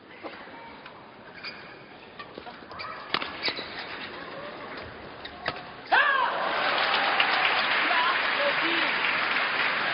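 Scattered shuttle hits and squeaks at a badminton match give way to sudden, steady applause from the arena crowd, a commentator talking faintly in the background.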